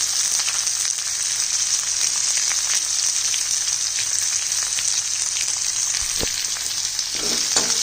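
Chopped onion frying in hot chili oil makes a loud, dense, continuous sizzle with a rain-like crackle that holds steady and alone, and a brief clatter near the end.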